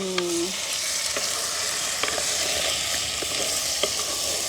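Cleaned, broken crab pieces go into a pan of onion and green chili frying in oil. A loud, dense sizzle fills the scene, broken by a few small clicks and taps of stirring, and no voices are heard.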